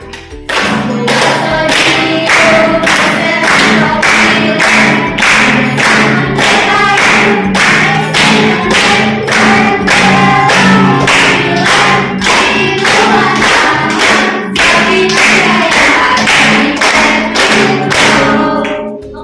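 A group claps hands in a steady, loud, rhythmic beat that continues for many seconds, the claps close and dense, at a high school session.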